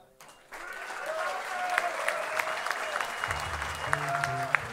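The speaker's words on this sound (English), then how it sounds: "Give yourselves a clap." Concert audience applauding at a live metal show in Copenhagen, a steady wash of clapping and crowd noise filling the room, with a low rumble of stage sound joining near the end.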